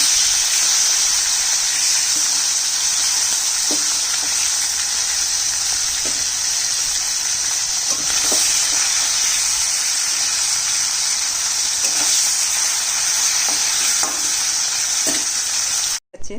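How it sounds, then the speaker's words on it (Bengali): A fish fries in hot oil just after being turned over, making a loud, continuous close sizzle with light periodic taps from stirring, which cuts off abruptly at the end. "এক পাশটা ভাজা হয়ে গেছে, আরেক পাশটা উল্টে দিচ্ছি।"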